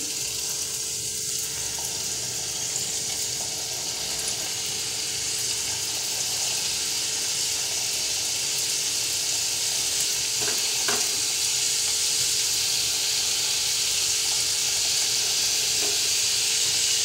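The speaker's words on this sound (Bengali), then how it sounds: "এবার তেল গরম হয়ে গেছে ভালো করে, এবার ছেড়ে দেবো নিমকিগুলো।" Nimki dough pieces fry in hot oil, a steady loud hiss and sizzle with faint stirring clicks, lasting throughout without any voices.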